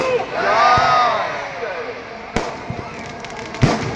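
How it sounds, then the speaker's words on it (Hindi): Fireworks and firecrackers burst during Ravan Dahan at Gandhi Maidan in Patna, with sharp cracks and pops at intervals over a broad crowd roar that swells and fades. "ये पटाखे, ये आतिशबाजियां"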